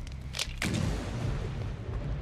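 A wooden pallet is smashed apart in Dead by Daylight: a couple of sharp cracking hits followed by a heavy, splintering crash and a low rumbling tail, close and loud.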